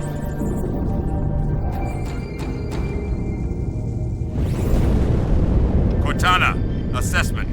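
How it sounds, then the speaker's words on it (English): A distant explosion in the video game Halo 2 rumbles up midway as a low, swelling blast, following quiet cutscene ambience with faint electronic tones and a few brief clicks. "That explosion came from inside the Athens."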